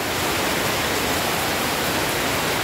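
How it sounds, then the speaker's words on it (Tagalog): Heavy typhoon rain pouring nonstop, a dense, loud, even roar of water with no breaks or voices. "magmula kagabi hanggang ngayon walang tigil ang ulan"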